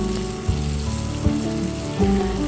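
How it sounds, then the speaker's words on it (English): Apples sautéing in butter with pie spice sizzle steadily in a pan, a close continuous fry with a few soft stirring bumps. "we're going to saute those until they're nice and soft"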